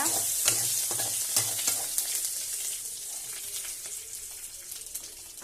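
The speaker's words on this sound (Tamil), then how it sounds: "இப்போ வந்து நம்ம இஞ்சி வந்து போட்டுக்கலாம். பூண்டு வந்து இப்போ சேர்த்துக்கலாம்." Ginger and garlic fry in a hot pan for ridge gourd chutney, a close, steady sizzle broken by repeated scraping stirs, louder at first and easing slightly toward the end, with no talking.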